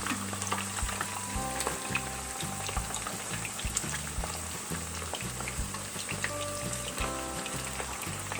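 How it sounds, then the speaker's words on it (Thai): Battered salmon belly with garlic and pepper fries in hot oil, a dense, steady sizzle and crackle close up that continues without pause and with no talking. "เดี๋ยวเรา ขอทอดเราลงให้หมดก่อนค่ะอาจจะต้องทอดสองรอบค่ะ"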